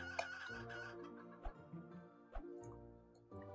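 Chickens cluck in the Planet Centauri video game, a few short clucks popping up over steady game music and sound effects, moderately loud.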